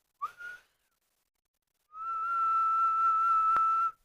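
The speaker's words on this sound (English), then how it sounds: "I'll try doing a little bit of a whistle." A person whistles close to the microphone: a short rising chirp, a pause of silence, then one long, steady, clear whistled note held for about two seconds with a faint crackle.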